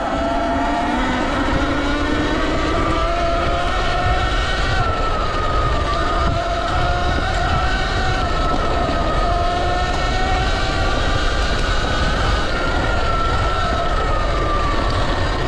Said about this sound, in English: It makes a little whine